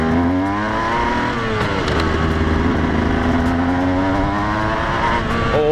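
A motorcycle engine revs up and down close by, its pitch rising and falling through several throttle blips, loud and continuous.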